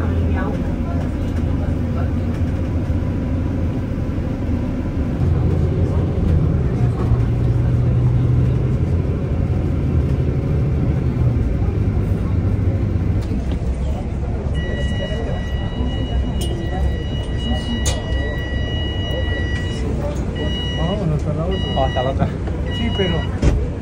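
Continuous loud rumble of a two-story tour bus moving through busy city traffic, with engine drone and road noise throughout and faint passing sounds nearby; people talk over it.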